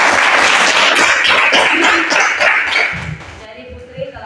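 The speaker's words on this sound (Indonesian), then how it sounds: "tepuk tangan dulu untuk Putri." A classroom group claps for a student's presentation, a loud burst of many hands for about three seconds that fades out, with faint voices at the end.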